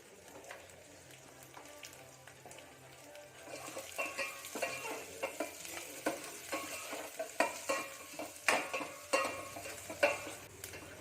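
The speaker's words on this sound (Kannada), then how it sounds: "ಈರುಳ್ಳಿ ಇಷ್ಟನ್ನು ಹಾಕಿ ಫ್ರೈ ಮಾಡ್ಕೊಳ್ತಾ ಇದ್ದೀನಿ." Onions sizzle with asafoetida in a hot tempering pan, faint at first, then a busier fry from about four seconds with repeated sharp scrapes and clinks of a spoon stirring against the metal, close by and with no voices.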